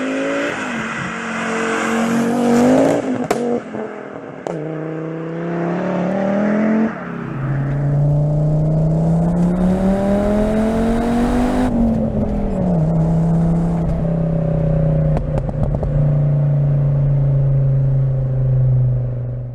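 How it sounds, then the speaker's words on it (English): A Volvo T5 five-cylinder turbo engine from the 1990s revs hard and loud, pitch climbing and falling through gear changes, then settling into a steady drone. "That 5-cylinder turbo has one of the best sounds from the 90s."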